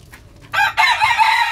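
A short, raspy crow from a young gamecock rooster (stag) follows a moment of quiet, close and fairly loud.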